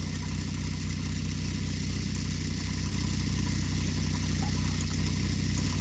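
A car engine idles steadily during an automotive diagnostic check, a constant low rumble with even firing pulses, close and continuous with no voices.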